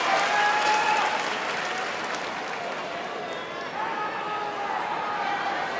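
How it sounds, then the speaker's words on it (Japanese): Sumo crowd applause swells at a Makuuchi bout between Mitakeumi and Daieisho during the Aki Basho, a dense sustained clapping roar filling the hall with the arena announcer's voice running underneath. "拍手が大きくなっています"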